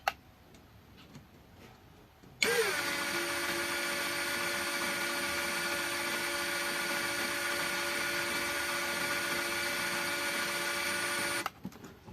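A LUCID LX60 120 Nm impact drill starts up in drilling mode at speed 2 (low, about 90 rpm), holding a steady, even motor whine for around nine seconds before cutting off abruptly, with quiet room sound before and after.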